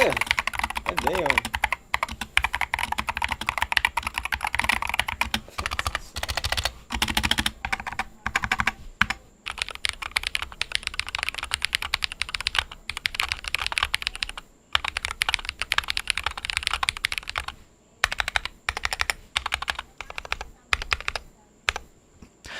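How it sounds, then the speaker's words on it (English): Typing on a gasket-mount mechanical keyboard makes close, crisp key clacks in bursts of rapid strokes broken by brief pauses, loud and alone. "The gasket mount makes it kind of feel like you're typing on springs, giving you a bit of a bounce."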